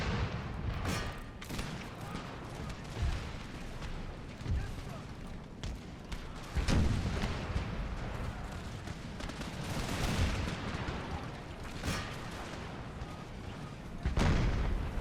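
Cannon artillery fires across a battlefield in Empire Total War, repeated booming volleys and rumbling bursts at irregular intervals over a continuous wash of battle noise.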